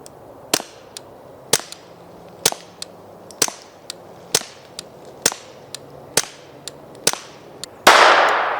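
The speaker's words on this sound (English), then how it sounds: "we're going to shoot one magazine with the Banish 22 suppressor" A Beretta 21A pistol fitted with a Banish 22 suppressor fires about a dozen sharp, snapping suppressed shots at a steady, unhurried pace, each crack ringing briefly, followed by a burst of broadband rustle at the end.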